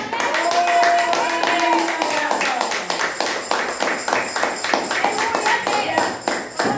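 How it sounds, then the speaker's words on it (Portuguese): Church congregation applauding during a sermon, a dense patter of clapping with a voice speaking over it and some tonal sounds in the background. "Pode aplaudir."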